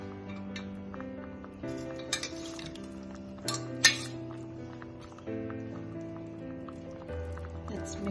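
Pre-cooked mutton pieces being stirred into gravy in a pot, with scattered metallic clinks and scrapes of a spoon against the pot over steady background music.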